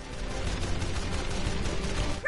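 Continuous rapid gunfire from ship-mounted guns in the video game Jak and Daxter: The Lost Frontier, fired at sky pirates; a dense, steady barrage with a brighter burst near the end.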